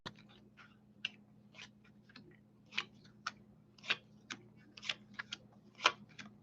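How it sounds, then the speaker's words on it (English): Tarot cards being shuffled by hand make a quiet, irregular series of sharp papery clicks and riffles, close up and without talk. "you see how I shuffle these? I shuffle them like crazy."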